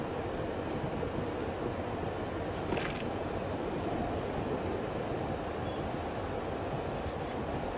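An underground metro train runs with a constant, dense rumble and roar, with a couple of faint high squeals from the wheels partway through.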